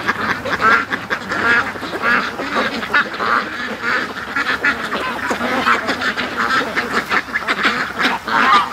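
Ducks quack loudly and continuously in a busy flock, close by, with overlapping calls and flapping throughout, no talk.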